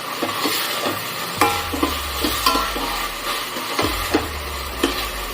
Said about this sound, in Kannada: ಹಾಗೆ ಜಿಂಜರ್ ಗಾರ್ಲಿಕ್ ಪೇಸ್ಟ್ ಹಾಕೊಳ್ಳೋಣ. ಸ್ವಲ್ಪ ಫ್ರೈ ಮಾಡೋಣ ಚೆನ್ನಾಗಿ.